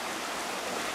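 Flowing river water at Assin Manso Ancestral River Park in Ghana, a steady broadband rush heard close and continuous, with no voices.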